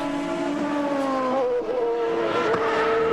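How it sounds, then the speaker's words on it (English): Several Champ Car race cars roar together at high revs during qualifying at Mid-Ohio, engine pitches sliding and shifting as they run close, loud and continuous. "bunch of cars running together here"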